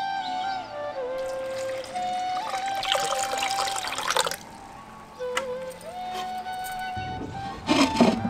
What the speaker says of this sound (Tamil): அதை தேவையான அளவு எடுத்து ஊற வச்சிருந்த தண்ணியவே சேர்த்து